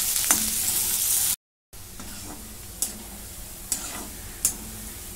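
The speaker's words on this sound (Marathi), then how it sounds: "आता ह्याला चांगलं भाजून घेते." Finely chopped small onion frying in a pan, a steady close sizzle with a brief dropout and several sharp taps of a spoon stirring against the pan.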